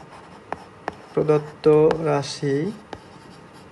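Pen writing on paper during a Class 9 trigonometry math lesson: brief scratches and light taps come and go while a teacher speaks over them.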